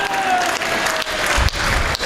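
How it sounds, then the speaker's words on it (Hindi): Audience applause at a Hindi kavi manch comedy poetry show, a short crowd clapping burst filling most of two seconds with a soft dip partway. "जो कवि कहते हैं उसमें ही ताली बजाते हैं ये लोग।"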